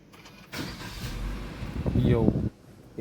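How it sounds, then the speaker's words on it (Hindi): Cold start of a family car pulled out of the driveway: a loud engine burst catches and runs steadily for about two seconds, rising slightly toward the end before cutting off, with voices nearby. "इसे करते हैं एक बढ़िया सा कोल्ड स्टार्ट।"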